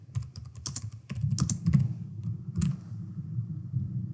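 Fingers type on a computer keyboard nearby, a fast, uneven run of key clicks with short pauses, and no one speaks.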